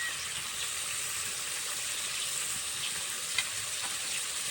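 Bata fish curry masala with salt and turmeric sizzling and frying steadily in a pan, a continuous hiss with a faint clink of stirring near the end.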